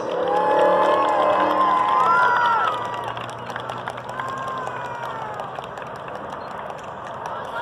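Spectators at a girls' high school soccer game, CIF Division 4 runner-up awards, applaud and cheer loudly, with whoops and shouts over steady clapping that eases slightly after the first few seconds.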